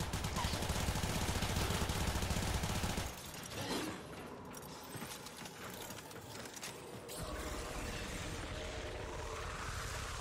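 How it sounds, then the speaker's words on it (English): Dense, rapid automatic gunfire in the video game Warframe rattles continuously for about three seconds, then eases into quieter mechanical whirring and clatter before the firing noise swells again. "Have some full automatic gunfire."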